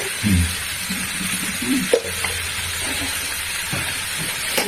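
Vegetables for a vegetarian thali being sautéed in a pan with a little sugar added, a steady hissing fry under occasional dull stirring knocks, close and moderately loud.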